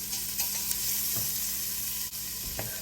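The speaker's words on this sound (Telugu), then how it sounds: "కొంచెం 1 టేబుల్ స్పూన్ బటర్ వేసుకుంటున్నాను." A tablespoon of butter sizzling in a pan over a low flame, a steady close hiss with a few soft taps of a utensil against the pan, alone and without talk.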